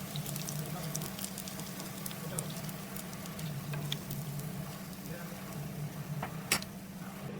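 Omelette baji, egg-battered fritters, frying in a pan of hot oil, giving a steady, close crackling sizzle with scattered small pops that continues without a break throughout.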